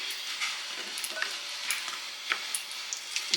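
Carrots sizzle and crackle in a hot frying pan for an Irish St. Patrick's Day dish, a steady bright hiss with scattered pops and stirring clicks, no voices.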